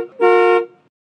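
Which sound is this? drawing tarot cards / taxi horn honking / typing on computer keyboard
taxi horn honking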